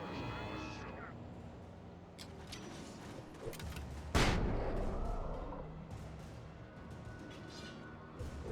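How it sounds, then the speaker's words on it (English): A flashbang grenade goes off in Alan Wake Remastered as one sharp loud bang midway, followed by a decaying ringing rumble, with faint game sounds and voices around it. "Flashbang."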